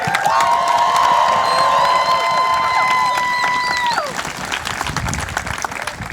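Crowd applause and cheering at a Gaza solidarity rally on a university campus, loud sustained clapping with shouts and whoops from an outdoor gathering, fading slightly toward the end.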